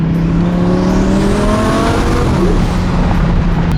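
Twin turbo Audi R8 V10 driving fast, a loud, steady engine roar from inside the car with a rising, droning tone and no breaks.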